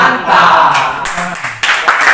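Classroom students doing a rhythmic thumbs-clap chant, short bursts of clapping mixed with group voices chanting, close and lively.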